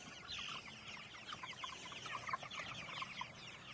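A flock of nearly 60 hungry young chickens clucking together on a farm, a faint, busy chorus of overlapping clucks and peeps at a distance with steady background noise.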